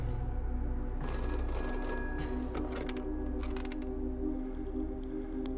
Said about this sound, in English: That's the phone. Answer it.